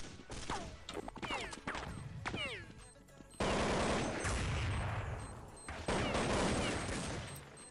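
Counter-Strike 1.6 gunfire in a public match: rapid, loud bursts of automatic shots with sharp cracks, later dense continuous firing, with chirpy sounds in the early part and no talking.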